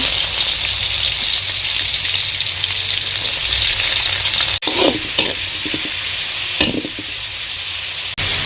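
Fenugreek seeds and onions fry in hot sesame oil for a fish curry, a loud continuous sizzle close by, with a few stirring scrapes and clatters in the second half.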